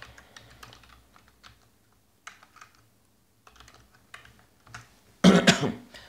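Code being typed on a computer keyboard: sparse, quiet key clicks in small bursts with gaps between them, then a louder, rougher burst close by at the very end.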